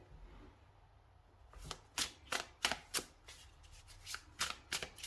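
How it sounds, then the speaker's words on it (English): Tarot cards being shuffled, a run of crisp riffling flutters and taps in quick irregular bursts after a quiet start, close and alone with no talk. "So I'm gonna shuffle on screen."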